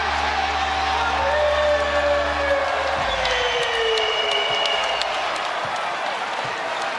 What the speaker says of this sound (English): Even the Knicks are applauding